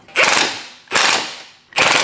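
A ratchet tightens the control arm bolts on a supercharged Subaru BRZ, three loud close bursts of rapid clicking, each fading as the handle swings back before the next stroke.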